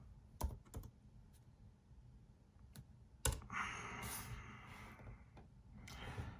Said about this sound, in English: type on the search field, type bootcamp